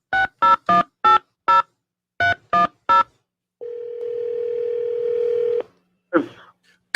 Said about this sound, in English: I'm going to call somebody at random